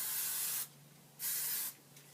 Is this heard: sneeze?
no